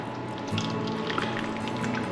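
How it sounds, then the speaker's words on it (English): Boiling water pours steadily into a dish with a continuous splashing, gurgling rush, close and moderately loud. "On top of that, we add 2 cups of boiling water."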